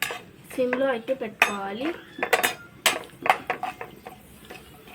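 Spatula scraping and clinking in a pan while raw banana fry is stirred with crushed garlic, a few sharp metallic knocks and scrapes between stretches of someone talking.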